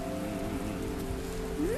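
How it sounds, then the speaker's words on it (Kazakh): Steady rain falling in an animated cartoon scene, a constant close hiss of drops over a low droning hum, with no voices. "Жаңбыр көп ұзамай басылып та қалар."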